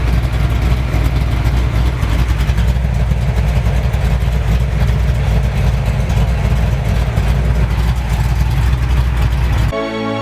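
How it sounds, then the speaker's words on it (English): A Ford Mustang engine idles with a loud, steady, rumbling exhaust drone close by, continuous throughout with no talk, ending abruptly. "Hold up, yeah, it's the exhaust."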